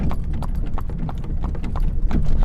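A horse hauling an Old Order Mennonite buggy on a St Jacobs tour clops along in an even, close, continuous rhythm of hoofbeats over a low road rumble.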